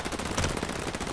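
Rapid automatic gunfire from a chaotic video game, a dense, loud, continuous rattle of shots filling the whole burst with no talk over it.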